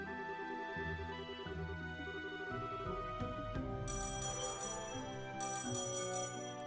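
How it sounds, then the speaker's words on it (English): A phone rings in a video game, a repeating electronic ringtone with bell-like tones layered over steady game music, moderately quiet and without talk. "the phone's ringing."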